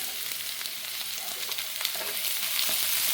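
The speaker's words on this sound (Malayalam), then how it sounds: "സബോള അരിഞ്ഞു വെച്ചിട്ടില്ലേ അതൊന്ന് നമ്മൾ ഇതിലേക്ക് ഇട്ടിട്ട് ഒന്ന് നമുക്കൊന്ന് അത് വഴറ്റിയും കൂടെ എടുക്കാം" Sliced onions being sautéed in a pan, a gentle continuous sizzle with scattered stirring clicks and scrapes, quiet at first and growing slightly louder, close by with no talking.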